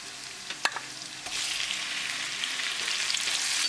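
Shrimp dropped into a hot pan of garlic and cashews, a couple of sharp knocks and then a steady loud sizzle and crackle of frying that builds slightly and keeps going with no voices.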